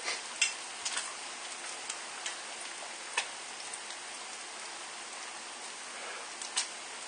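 Bacon frying in a pan on the stove, a continuous crackling sizzle with scattered sharper pops, close and steady with no voices.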